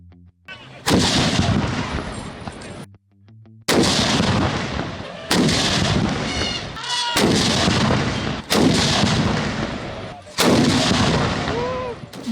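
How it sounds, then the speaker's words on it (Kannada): Cannon salute blasts at a Mysuru Dasara rehearsal with seven ceremonial cannons and an elephant contingent, five or six loud booming reports fired one after another at intervals of one to two seconds, each followed by a rumbling echo. "ನೆಲವೇ ನಡುಗುವಂತೆ ಫಿರಂಗಿಗಳಿಂದ ಸಿಡಿಮದ್ದು ಸಿಡಿಯುತ್ತಿವೆ"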